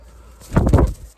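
A rooster being picked up and handled gives a short, low throaty cluck or grumble, close by, a brief sound swelling and fading within about a second.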